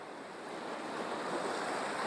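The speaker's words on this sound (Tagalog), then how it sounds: "Ayan na yung dagat." Steady rush of sea waves breaking along a rocky shore on Burgos Island, with wind noise buffeting the microphone throughout.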